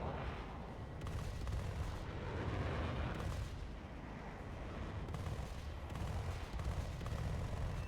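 Heavy aircraft cannon fire rumbles in a video game dogfight, sustained low booming bursts with short pauses, loud and dense throughout.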